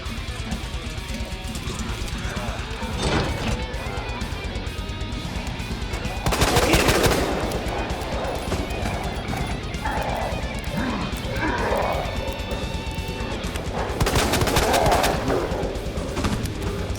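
Rapid bursts of Quick Draw Army gunfire from Resident Evil 2 Remake, loud crackling volleys around a few seconds apart over busy game ambience, with impacts and clatter between shots.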